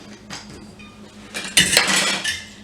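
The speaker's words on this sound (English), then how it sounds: "So I'm going to stir this up" A spoon clinks and scrapes against a metal pot while a vodka and pumpkin cocktail mixture is stirred, light metallic taps building into a brighter, louder rattle near the end.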